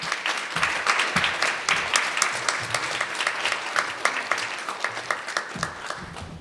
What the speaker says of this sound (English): keep that laughter and applause going for Simon Malpass and his crew